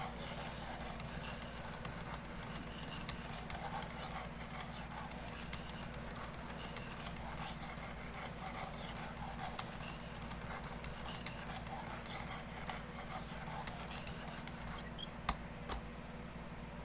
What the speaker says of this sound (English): you're going to repeat the same process on this side with a 320 grit stone